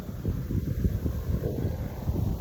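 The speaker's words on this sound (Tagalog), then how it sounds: "Talagang gano'n, mahangin na." Strong wind gusting across an open farm field where hybrid crops were planted, buffeting the microphone with a continuous low rumble that surges and eases for a couple of seconds.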